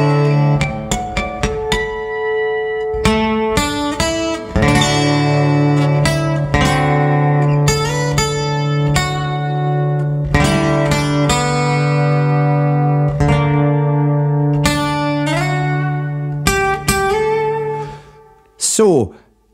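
A slow Irish air, a tune in the style of Danny Boy, played as a sustained melody line with freely stretched phrasing over a steady low drone, loud and continuous until a brief tail at the end.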